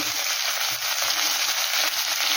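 Ground spices including cumin, coriander, turmeric and Kashmiri chili powder frying in hot oil in a pan for a mourala fish curry, a loud, close, continuous sizzle with soft stirring scrapes underneath.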